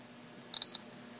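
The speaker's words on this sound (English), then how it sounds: "when I touch them, I just get a beep and it stops, right? So that's the diode test working." A multimeter on diode test gives a single short, high-pitched electronic beep while probing the pins of a transistor. The beep is clear against a near-silent background.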